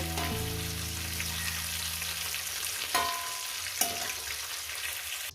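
Cauliflower pieces fry in hot oil in a pan, a steady close sizzle with a couple of brief stirring clinks, continuous for a few seconds.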